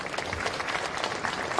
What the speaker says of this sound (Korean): 박수 한번 주셔야겠습니다.